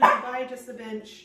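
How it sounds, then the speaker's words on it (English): A dog barks once loudly at the start, then yips faintly under a person talking indoors. "Please excuse the barking."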